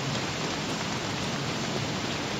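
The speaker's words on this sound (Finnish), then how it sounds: "Aika hienon kuulosta tuo sade." Steady rainfall in the video game Don't Starve, a dense, even hiss of drops pattering on surfaces, constant and fairly loud throughout with no voices.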